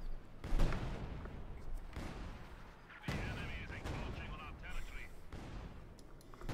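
An assault gun fires in a Company of Heroes 2 battle, with heavy booming shots at irregular intervals among other gunfire and explosions, while a commentator talks over the action.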